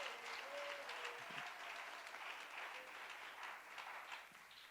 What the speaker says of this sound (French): Je vous demande quand même de les applaudir.